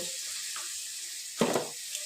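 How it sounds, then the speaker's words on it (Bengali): Spices frying together in a pan for a water spinach dish, a faint, steady sizzle with a brief louder burst of hissing midway. "এবার আমি এগুলোকে সব একসঙ্গে ভাজা করে নিই"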